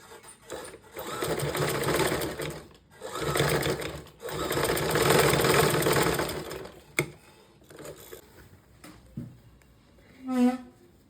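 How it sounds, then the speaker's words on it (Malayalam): A sewing machine stitches umbrella pant fabric in three long whirring runs, followed by several short bursts and a few clicks as it stops and starts. "നമുക്കത് ഇവിടെ ഒന്ന് സ്റ്റിച്ച് ഇട്ട് കൊടുക്കാം."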